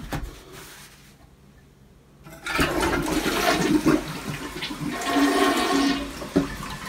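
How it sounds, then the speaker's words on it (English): A toilet flushes with toilet paper in the bowl after being unclogged: a quiet lead-in, then a loud rushing surge of water that swirls and gurgles for several seconds. "let's put some more toilet paper in this thing, give it a flush"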